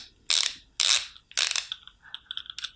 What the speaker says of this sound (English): And socket wrench is known for that great sound.